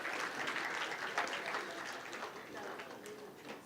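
Steady applause from a conference audience at an Islamic economics and finance conference, moderately loud and continuous for a few seconds, with a faint voice mixed in.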